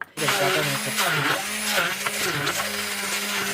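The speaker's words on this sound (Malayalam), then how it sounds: "നമുക്ക് നന്നായിട്ട് ഇതൊന്ന് ബീറ്റ് ചെയ്തെടുക്കണം" Butter being whipped with condensed milk for maska buns, a steady electric beater whir running throughout with a tonal hum, close and continuous.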